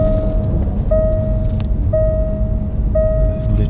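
A car's seatbelt warning chime sounds, a steady tone repeating roughly once a second over low engine and road rumble inside a vehicle in Dubai.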